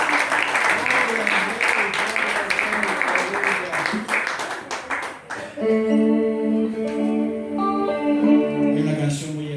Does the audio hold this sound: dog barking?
no